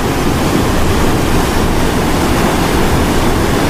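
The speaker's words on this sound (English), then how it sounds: "Here at the spillway at Dam Site 3." Water rushes steadily over the spillway at Dam Site 3 in Arkansas, a loud, constant roar of broadband noise close by, with no voices.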